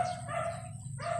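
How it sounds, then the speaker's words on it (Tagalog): Several dogs bark from a neighboring yard beside a poultry pen of pullets and hens, a moderately loud, steady chorus of yelps and tones over the whole short stretch. "Pasensya na at maingay. Maraming aso sa kabila."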